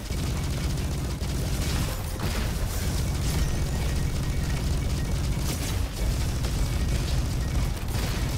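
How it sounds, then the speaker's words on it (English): Potato grenade explosions in the video game Roboquest: dense, continuous booming and bursting over a loud constant wash of game noise, with a few sharper blasts near the two-second and six-second marks. "A potato grenade."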